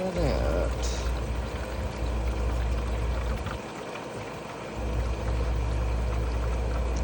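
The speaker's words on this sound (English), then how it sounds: "Go ahead and start filtering it out." Liquid poured through a filter during gold recovery, heard as a steady, continuous close pouring and trickling wash that briefly drops out partway through before resuming, with talk in the background.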